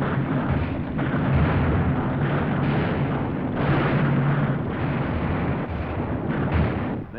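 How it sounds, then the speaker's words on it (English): Battleship guns firing on ground positions at Okinawa, heard as a dense, continuous roar of heavy blasts and booms on a muffled, low-fidelity wartime recording, with no pauses. "the battle wagon's guns blasting at Okinawa ground position"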